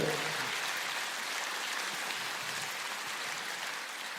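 Audience applause at a live stage show, a dense, steady wash of clapping that holds evenly throughout, moderately distant, without speech.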